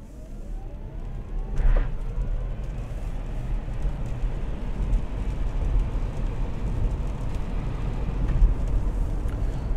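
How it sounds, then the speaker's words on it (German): A 2019 Hyundai Kona Elektro electric SUV with 204 PS and a 64 kWh battery, weighing 1.7 tonnes, accelerates hard uphill on a wet road, heard as a steady low rumble of tyre and road noise with a faint rising whine. "Ich drücke jetzt mal einfach das Gaspedal durch, bin ruhig und beschleunige hoch"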